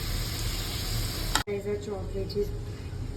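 Chopped vegetables sizzling in butter in a pan, a steady close hiss of frying that drops out briefly partway and returns softer.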